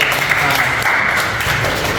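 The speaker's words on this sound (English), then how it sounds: "give a clap" Students in a university crop physiology class clap together, a steady, even patter of many hands filling the room at moderate loudness, with voices faintly underneath.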